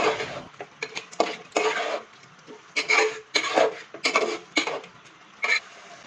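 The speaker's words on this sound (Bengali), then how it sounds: "এবারে ভালোভাবে নেড়েচেড়ে মিশিয়ে নিতে হবে" Chicken, mung dal and ground rice being stirred together in a pot for khichuri, a series of loud, irregular scraping and clattering strokes of a spoon against metal with short pauses between, close up and without talk.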